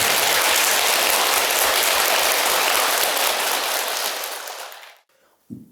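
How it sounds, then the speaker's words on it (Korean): Loud, dense applause from a Buddhist temple congregation during a Dharma talk, a steady wash of many hands that fades out near the end, followed by a brief sound after a short silence. "박수 한번 해주시죠"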